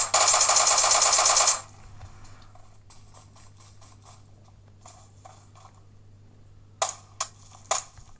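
A rapid burst of automatic gunfire from the game PUBG played on a budget Dragon Touch Max10 Android tablet, followed by quieter scattered shots and a few sharp single cracks, all fairly faint.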